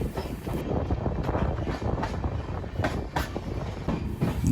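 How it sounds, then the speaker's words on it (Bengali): The Amrit Bharat Express passenger train, just departed New Farakka Junction, rumbles along the tracks with a steady roar and faint clattering wheels, heard from inside or close by, no talking. "আমাদের ট্রেন রওনা দিল নিউ ফারাক্কা জংশন থেকে"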